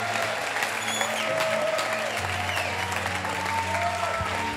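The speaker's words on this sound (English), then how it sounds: "let's give the Lord a huge shout and a huge clap" A church congregation at a conference claps steadily in a dense, continuous wash of applause, with cheering voices and a low organ or keyboard tone sustained beneath.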